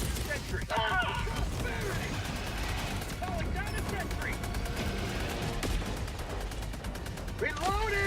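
Sustained rapid gunfire from a sentry turret in Helldivers 2, dense bursts continuing throughout amid a chaotic battle, with voices talking over the shooting.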